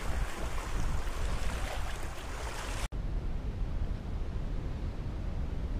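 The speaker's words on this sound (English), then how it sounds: "this particular wind coming out of the northwest is makes this lake pretty rough" Steady strong northwest wind roaring over rough waves on a remote lake in Lake Superior Provincial Park, a continuous loud broadband rush with a brief cut midway and no voices.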